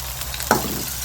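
Onions and curry leaves sautéing in a pan with oil for a dried-fish thokku, a steady close sizzle broken by two sharp utensil knocks against the pan.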